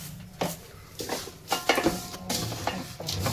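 Jaggery being stirred in a pot with homemade desi ghee for chikki: repeated scraping and clinking strokes of a spoon against the pot, close and irregular, with a soft cooking hiss underneath.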